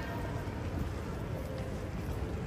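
Rain falls outside in a steady, dense hiss of drops, continuous and fairly even for a couple of seconds, with a soft low rumble beneath.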